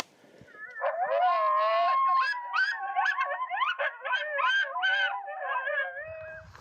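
Coyote howls and yips from a FoxPro electronic predator call during a coyote hunt ring out loudly, with wavering wails and rising yelps overlapping for several seconds, then cut off.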